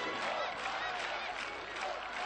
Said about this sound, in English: They're getting applause from the home crowd